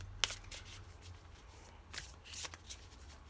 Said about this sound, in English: I think that's shuffled good enough